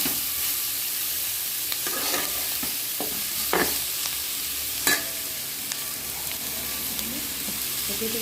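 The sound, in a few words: dried fish frying and stirring in a pan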